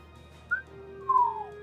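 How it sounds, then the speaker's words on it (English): A low whistle of appreciation: two short whistled notes, the first brief and rising, the second longer and sliding downward, clear and close over a quiet background. "I let out a low whistle of appreciation"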